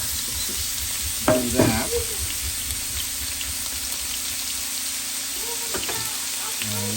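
Beef pieces for an Irish stew sear in a hot pot with a steady broadband sizzle, broken by a few louder stirring scrapes and clatters; a voice speaks briefly over it.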